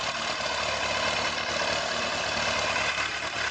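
A Kawasaki ZZR1100 motorcycle engine, just started and still cold, idles continuously at close range, a low, even mechanical drone with a faint rhythmic chug and no change in pace.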